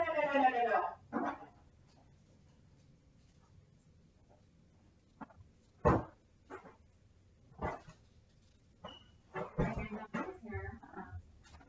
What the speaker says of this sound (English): My daughter's dog is getting into something.